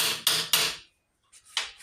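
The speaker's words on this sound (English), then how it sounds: "Not much of a hammer, really." A small hammer chips slag off a stick weld made with a cheap mini stick welder, landing three quick, bright metallic taps, then a short pause and a couple of fainter scraping knocks.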